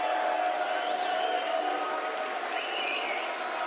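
A darts crowd at the PDC Austrian Darts Open 2024 claps and cheers for Latvian player Madars Razma, a steady, dense roar of applause with a couple of whistles rising over it.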